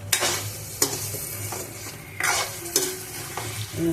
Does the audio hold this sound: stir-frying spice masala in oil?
yes